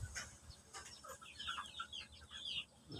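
Brahma chickens cluck softly and steadily in a backyard flock, a mix of short murmuring clucks and a few higher calls, fairly close and quiet.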